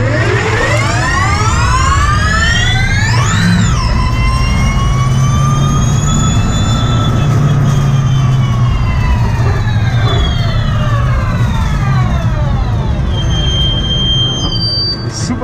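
A race car driven backward at very high speed on a clear track in a reverse-driving world record attempt, its engine roaring loudly and steadily with a long rising and falling whine throughout.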